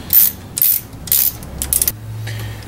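A ratchet snugging down bolts on a Chevy Vortec 5.7 350 engine during a head gasket job, several quick bursts of sharp clicking close up, followed by a low mechanical rumble.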